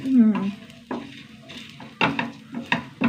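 Loud sizzling of grated coconut frying in a pan, broken by scraping and stirring strokes at irregular intervals, close up.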